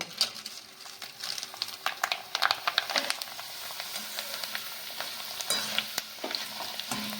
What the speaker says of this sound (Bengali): এবার আমি আলু পাঁপড়গুলি ভেজে নেব